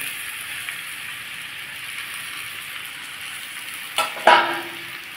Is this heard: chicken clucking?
no